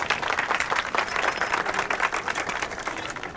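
During a Hindi comedy film scene, a group claps in a brisk, fairly loud burst of many hands with an uneven patter and no speech over it.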